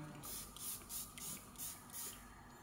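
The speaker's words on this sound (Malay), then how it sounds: "Okay, mari kita spray kat tangan." A perfume atomizer sprays onto a hand, several short hissing puffs in quick succession, close and soft over a quiet room.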